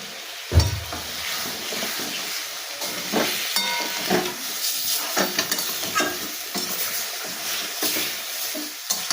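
Spices with salt and turmeric sautéing in a pan for a fish curry: a steady loud sizzle and hiss with repeated scraping stirs of a spatula against the pan, close and continuous with no talk.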